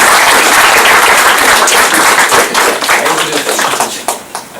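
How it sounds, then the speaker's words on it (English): An audience at a Scrum meetup claps loudly and fast, the dense burst of many hands holding strong before thinning into scattered final claps toward the end. "Can you please round of applause for the morning?"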